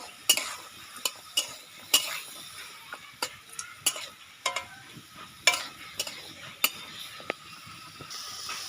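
Chili paste hits a hot curry pan with a faint sizzle, punctuated by sharp, evenly spaced clicks and scrapes of a utensil stirring against the pan.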